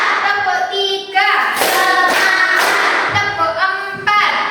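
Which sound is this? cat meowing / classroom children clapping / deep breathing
classroom children clapping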